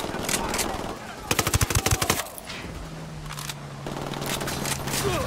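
Gunfire in Ghost Recon Wildlands comes as a rapid automatic burst of about a dozen sharp shots, with scattered single shots before and after and a steady low hum through the middle.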